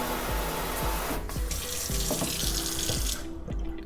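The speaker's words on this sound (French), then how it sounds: "regardez mon petit robinet aussi" A small kitchen faucet in a LaSalle, Montreal condo runs with a steady close splash of water into the sink, with some handling knocks, then the flow shuts off near the end.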